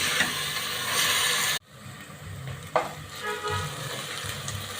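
Onions frying in a pan until light brown, a steady loud sizzle that cuts off abruptly, then resumes more quietly with occasional stirring scrapes.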